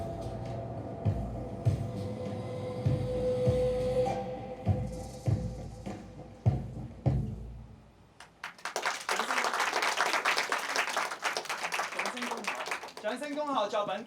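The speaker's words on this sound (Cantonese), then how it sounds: "掌聲恭賀作品《極樂》" Applause breaks out at a short film award ceremony in Hong Kong, a loud, dense wash of many hands clapping that fills the second half after a stretch of music and voices.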